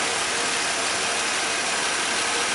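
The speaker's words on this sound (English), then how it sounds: "this engine is running very nicely" A car engine idles steadily on its flexible mountings, giving a continuous, even mechanical hum with a fine ticking texture, close and unbroken with no voices.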